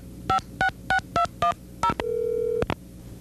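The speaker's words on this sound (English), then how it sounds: "Dial the computer number." A landline telephone dials a computer's number for a modem connection: about six crisp, evenly spaced touch-tone beeps, then a steady tone and two more short beeps, close and clear with no talk.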